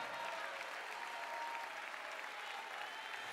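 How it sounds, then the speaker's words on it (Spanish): A church congregation applauds during a Sunday service, a continuous wash of clapping from many hands, fairly distant and soft, with no voices above it. "denle el mejor aplauso al Señor de su vida en esta hora."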